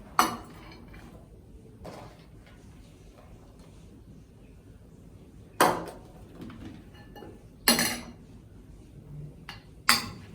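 A spoon knocking and scraping against a bowl while mung bean salad with sprouted mung and capsicum is mixed, giving a few distinct clinks spaced a couple of seconds apart over quiet kitchen background.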